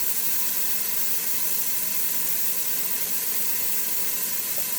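Steady, loud sizzling hiss of shrimp cooking in a hot Ninja Foodi pot, continuous with no talking.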